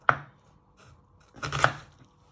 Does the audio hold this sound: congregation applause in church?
no